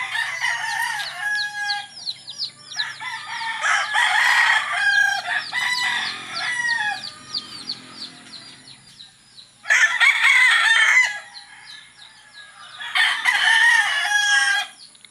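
Gamefowl roosters in a small backyard breeding farm crow repeatedly, with several long, loud calls coming in bursts separated by quieter stretches of soft clucking.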